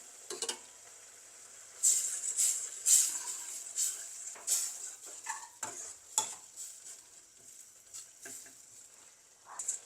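Pachadi being mashed and stirred in a pot with thick coconut milk, a string of soft wet squelches and spoon scrapes against metal coming in irregular bursts, close and fairly quiet.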